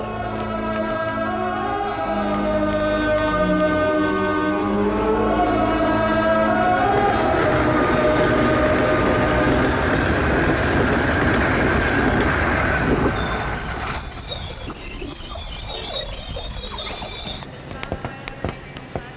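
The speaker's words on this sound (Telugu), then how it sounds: "ట్రైన్ వచ్చేసింది, పద." A train rolls in with a loud, steady rumble and clatter, then brakes squeal high and thin as the noise dies down near the end.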